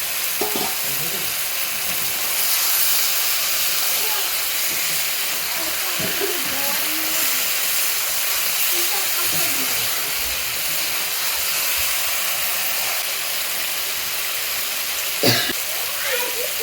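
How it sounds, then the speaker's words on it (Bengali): Small river fish sizzling and crackling in hot oil as they are sautéed in a pan, a steady loud frying hiss with occasional stirring scrapes throughout. "আমি এবার মাছগুলো দিয়ে দেবো দিয়ে একটু কষিয়ে নেবো"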